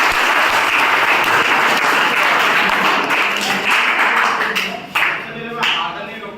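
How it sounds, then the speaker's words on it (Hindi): An audience at a career counseling event applauds in a loud, dense burst of clapping that holds steady, then thins and tapers toward the end. "तो सभी के लिए तालियां हो जाए"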